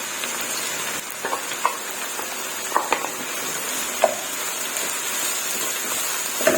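Green onions frying in a few spoonfuls of hot oil in a pan: a continuous close sizzle and crackle with scattered sharp pops and occasional stirring clicks, no talking.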